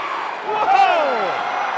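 Wrestling crowd at a WAR Wrestling anniversary show roaring in a sustained wash of cheers and shouts, with a slam-like thud and rising whoops as the noise swells and holds loud throughout.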